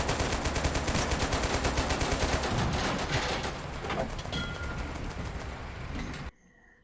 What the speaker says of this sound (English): I'm kind of just firing in where I think they are.